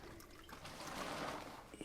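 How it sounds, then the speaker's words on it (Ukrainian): Water trickles from a watering can onto young cucumber plants in a garden bed, roughly a litre poured under each plant, a faint, steady splashing flow lasting a couple of seconds. "Проводимо полив."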